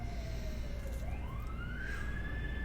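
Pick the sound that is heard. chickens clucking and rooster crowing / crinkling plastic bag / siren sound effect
siren sound effect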